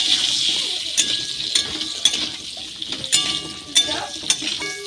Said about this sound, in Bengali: হলুদ গুঁড়ো, লবণ, ভালো করে ভেজে নেব।